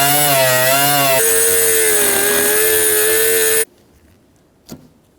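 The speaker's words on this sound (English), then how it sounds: "We're going to cut a little slot and take our nut off." A loud, high, whining cut bites into the antenna mounting nut on a 2005-2015 Toyota Tacoma while it throws sparks. The pitch dips under load, then cuts off abruptly and leaves near silence broken by one faint knock.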